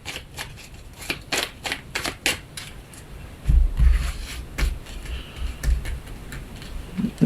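Tarot cards are shuffled by hand close up, a run of quick crisp riffles and flicks followed by softer taps and shuffles.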